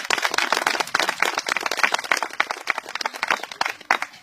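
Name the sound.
applause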